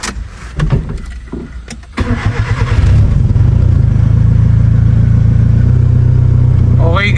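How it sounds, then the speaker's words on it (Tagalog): Nissan Sentra engine idling steadily while its AC compressor is tested, a low continuous hum that swells after a brief quieter start, with people talking over the sound near the start. "subukan natin siya ulit kung under na ba yung compressor niya"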